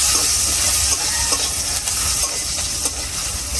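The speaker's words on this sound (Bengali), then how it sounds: "পেঁয়াজটা লাল করে ভাজা নিব" Chopped onions sizzle in hot oil in a wok, browning as they are stirred; a dense, continuous close hiss and crackle with light scraping strokes throughout.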